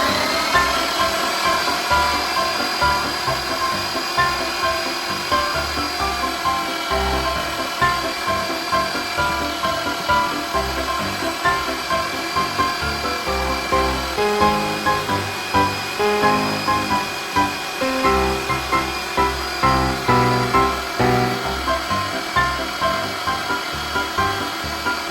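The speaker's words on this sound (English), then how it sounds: "excuse me while I grind my meat." A meat grinder works deer meat in a steady, continuous mechanical grind with a rhythmic rubbing pulse, loud and close, with no talking.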